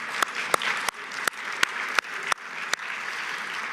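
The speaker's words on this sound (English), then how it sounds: "So a round of applause for everybody in this room." Audience applause fills a room at a workforce summit plenary session, a steady wash of clapping with a few sharp louder claps standing out, moderately loud and continuous.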